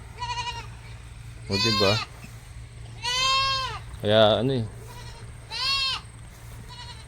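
Goats on a farm give four or five loud, wavering bleats spaced a second or so apart, close by, with a person talking between them over a steady low hum.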